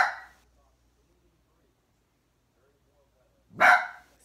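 A single loud dog bark starts the clip and a second comes near the end, each short and close, with near silence between them.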